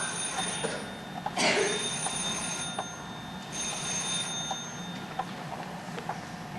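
An old telephone bell rings in a house at night, several bright ringing bursts that stand out clearly against a quiet background hiss, with no talking.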